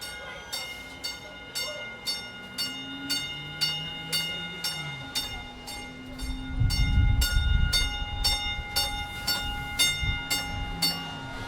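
A train rolls past with a steady, rhythmic clickety-clack of wheels over rail joints, a deep rumble swelling midway through.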